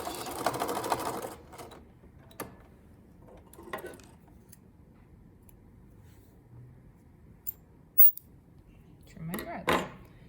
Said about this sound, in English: And then back stitch.